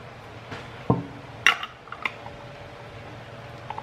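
A lid goes onto a container of atchara, a pickled green papaya relish. A few sharp clinks and taps come through close by against a quiet background.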